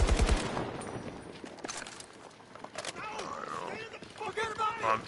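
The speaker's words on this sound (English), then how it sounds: "It's a machine gun." Machine gun fire in Battlefield 2042, a quick burst of sharp shots at the start, then scattered distant reports under quiet voices talking.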